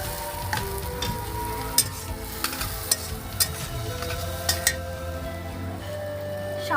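Peas and tomato go into spices frying in a pan, setting off a steady close sizzle with scattered clinks and scrapes of a utensil stirring, no voices.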